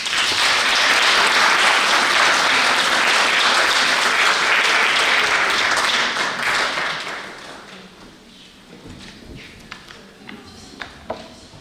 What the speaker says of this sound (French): nous pouvons applaudir Jonas